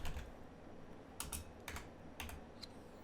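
Typing on a computer keyboard: a few quiet, sparse key clicks at irregular intervals, faint and close, over a low steady hum, with no talking.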